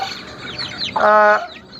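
Aseel hens cluck softly in short bursts, with one louder, drawn-out squawk in the middle, close by.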